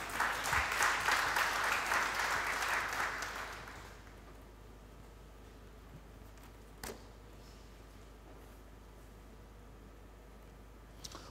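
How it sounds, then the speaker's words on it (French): A church congregation applauds and cheers for about four seconds, a broad, dense burst of clapping that fades out, leaving a quiet room with a brief click. "Quelqu'un peut acclamer le Seigneur?"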